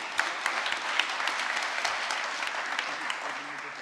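Crowd at a hackathon closing ceremony applauding a demo team taking the stage, a sustained wash of clapping from many hands with a few sharper claps standing out, at moderate loudness.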